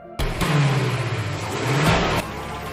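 A car speeds away at high speed, its engine note rising and falling in a loud, sustained whine that sweeps up and down across a couple of seconds, with no talk.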